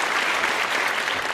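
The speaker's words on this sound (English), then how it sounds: "Can we have a round of applause for Florian" A short burst of audience applause for a performer at a virtual magic event, dense steady clapping from a crowd with no voices over it.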